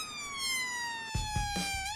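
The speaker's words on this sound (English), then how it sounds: "Scott presses this button to turn the flashing lights and siren on." A police siren wails steadily, its tone gliding slowly downward, while a few low thumps and rumbles sound beneath it.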